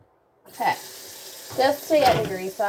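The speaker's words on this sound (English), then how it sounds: "Just to get the grease off, I'm going to use hot water to" Hot water runs from a kitchen tap onto greasy dishes in a steady, close splash, starting after a moment of silence and broken by short bursts of talking.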